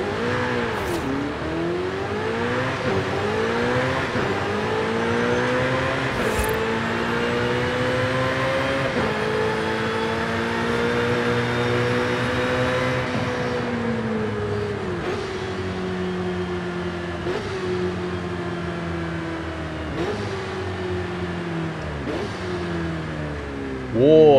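Ferrari 488 Challenge engine from the cockpit in the Forza Horizon 5 video game: a loud, steady engine tone that climbs through the revs and drops at each gear change, sustained for the whole stretch with faint clicks.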